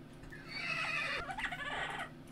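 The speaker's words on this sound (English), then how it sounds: "I got killed by a horse." A Minecraft horse gives a single drawn-out whinny, loud and close, rising then wavering down over about two seconds.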